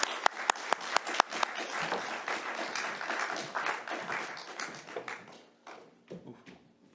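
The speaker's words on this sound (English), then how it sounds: "a round of applause before he starts the presentation" Audience applause in a university lecture hall ahead of an inaugural professorial lecture, opening with a few distinct sharp claps before swelling into steady clapping from many hands, then thinning out and fading to scattered claps near the end.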